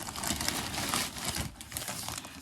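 Cardboard shoe box packaging being opened, a steady crinkling and rustling of wrapping up close for a couple of seconds, with no talking.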